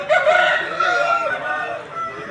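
A rooster over a year and a half old, about four kilograms, crows once in a long loud call at a Vijayawada poultry market in the rain, close by, with a faint voice in the background.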